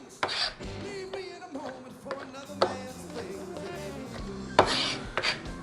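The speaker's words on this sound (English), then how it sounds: "take a whole mushroom, cut it in half, and lay the flat side down, and simply cut them into slices" Knife slicing halved Cremini mushrooms flat side down on a cutting board, a series of soft irregular taps and cuts at close range with a few sharper chops.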